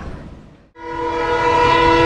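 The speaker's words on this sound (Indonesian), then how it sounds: "Teman-teman, kereta api lokal Walahar menunggu di salib ini ya." A Walahar local train waiting at a station sounds a loud, sustained horn that bursts in suddenly after a brief low rumble and holds steady to the end.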